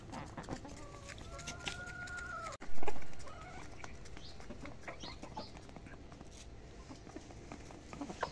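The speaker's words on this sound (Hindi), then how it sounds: "ये मुर्गी और मुर्गा जो है ना पक्के हिले हुए हैं मेरे हाथ से बाजरा खाने के लिए" A hen and a rooster cluck close by, with a few higher calls among a steady murmur of farmyard noise, and one sharp thump partway through.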